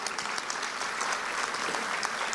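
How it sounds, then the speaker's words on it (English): A crowd of students at a live event gives a round of applause, continuous scattered clapping heard at a moderate distance and fairly quiet throughout. "Would you just give yourselves a great round of applause"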